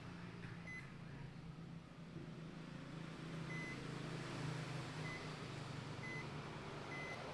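Short electronic multimeter buzzer beeps sound at intervals over a steady low hum and broadband background noise, each beep brief and thin, while checking the power IC of a dead Redmi A2 phone.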